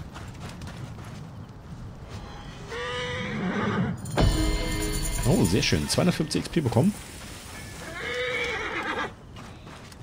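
Horses whinny and neigh in the game Assassin's Creed Origins, with clip-clopping hooves and a few short neighs and snorts between them. Someone speaks briefly over the sounds.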